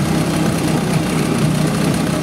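A model aircraft powered by a 111 BMW engine runs at a model flying club airfield, a loud, steady, dense engine roar that continues throughout without any talk.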